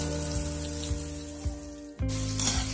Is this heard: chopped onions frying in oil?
yes